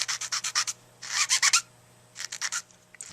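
A 220 grit sanding pad rubs over a chipped tip in quick bursts of short strokes, close and crisp, with pauses between the groups.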